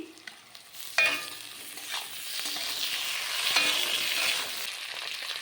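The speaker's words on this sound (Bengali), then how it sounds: "দেখুন পেঁয়াজ আর আলু খুব ভালোভাবে ভাজা হয়ে গেছে" Thickly cut onion and potato fry in a pan, a continuous close sizzle broken by a few scraping stirs of a spatula, without speech.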